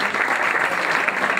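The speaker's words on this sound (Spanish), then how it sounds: "les damos un fuerte aplauso a las dos" Steady audience applause at a tennis awards gala, a dense wash of many hands clapping indoors, even and sustained with no voices standing out.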